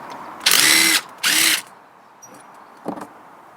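A 10mm socket undoing bolts on the rear differential of a Land Rover Freelander 2: two loud, close, whirring bursts of about half a second each, then quieter ratcheting clicks.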